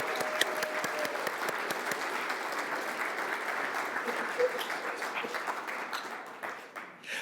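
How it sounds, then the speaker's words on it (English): A church congregation applauds during a service, a steady crowd of claps from many hands heard at a moderate distance, gradually thinning toward the end. "let's just go ahead and applaud"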